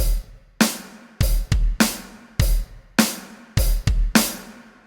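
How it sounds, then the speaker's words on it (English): A simple beginner drum groove sounds close and clear, with sharp kick and snare hits in a steady pattern and quarter notes kept on the hi-hat, repeating over about five seconds with no voice. "we're going to be using quarter notes on the hi-hat"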